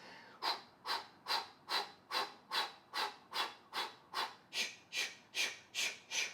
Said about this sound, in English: The breathing is going to be through the mouth, and it's going to sound like this.